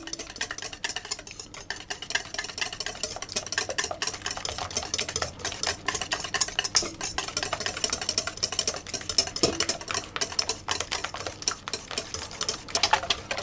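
Eggs being whisked for lemon curd, a rapid, even clatter of a whisk against a bowl that carries on steadily and fairly close, with no voices.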